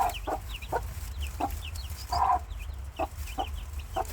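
A mother hen clucks protectively over her chicks, with short, repeated clucks in a steady rhythm, fairly close, over a low continuous background hum.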